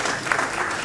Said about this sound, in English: A round of applause for Professor Balogun, please.